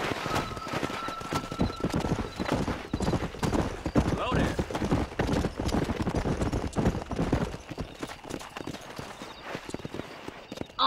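A horse gallops in Red Dead Redemption, the hoofbeats coming fast and steady from close by and carrying on for several seconds, with a whinny near the start and voices speaking over the ride.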